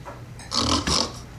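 A person imitates a husband's snoring with the voice, two rough, grunting snorts in a row, close and fairly loud, with no other talk.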